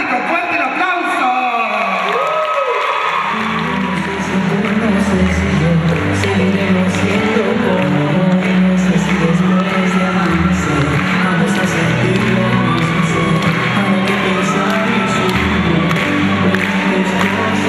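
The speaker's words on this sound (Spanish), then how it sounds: "¡Fuerte el aplauso!" A studio audience at a night show cheers, whoops and applauds loudly as a man is introduced, the crowd noise swelling after a few seconds and holding steady, with a voice speaking over the start.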